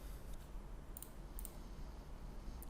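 A computer mouse clicks through account settings, a few faint, crisp single clicks spaced apart over a low, steady room hum.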